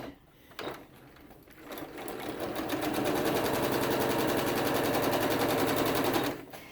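A sewing machine stitches foundation piecing for a quilted fan base, starting with a brief burst, then running fast and steady at close range for several seconds before stopping.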